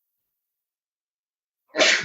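A single sharp sneeze bursts out near the end after nearly two seconds of silence, close and fairly loud, trailing off with a breathy tail.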